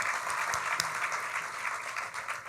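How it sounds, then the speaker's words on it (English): Audience applause fills a luncheon hall at the Gore Mountain Adirondack Challenge award event, a steady dense clatter of many hands clapping close by and holding level throughout, with no speech over it. "give her a big round of applause"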